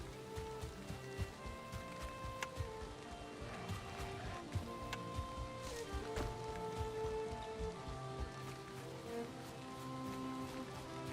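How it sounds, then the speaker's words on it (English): In the video game Valheim, rain patters steadily on surfaces, a continuous dense hiss with scattered droplet ticks and faint tonal game sounds layered over it, fairly quiet throughout. "Let's get out of the rain."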